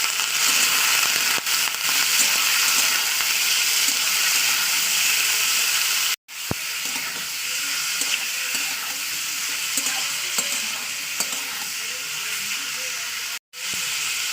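Pieces of meat, about 300 grams, fry in hot oil with a loud, continuous crackling sizzle that runs steadily throughout, broken by two brief silent gaps.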